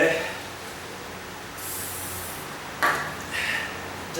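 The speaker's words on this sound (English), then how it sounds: "you spread a little bit more WD-40 on there and stuff goes away" WD-40 sprayed onto black tar flooring mastic in short aerosol hisses, one long burst early and a couple of briefer ones after, close up under faint room noise.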